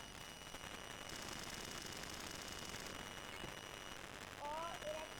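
Gunfire in the online shooter Red Crucible: a dense, continuous clatter of rapid shots and battle noise that fills the whole stretch at a steady loud level, with no talk over it.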